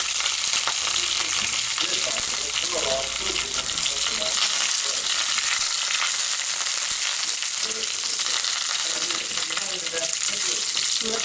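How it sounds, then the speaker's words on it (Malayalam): Mustard seeds and green chilies frying in oil for a Kerala fish curry, a loud, dense, continuous crackling sizzle with faint popping and stirring, close up and without speech. "നമ്മൾ കടുകും പച്ചമുളകും ഇട്ടിട്ടുണ്ട്. നമ്മുടെ കടുകും പച്ചമുളകും ഏകദേശം മൂത്ത് തുടങ്ങി."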